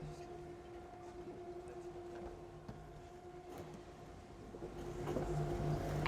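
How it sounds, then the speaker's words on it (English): Battery coolant pumps whining aboard an Island Spirit 525e electric yacht underway on a sea trial, a faint steady tonal hum over quiet wash and ambient noise, with no diesel exhaust. "You can hear the battery coolant pumps."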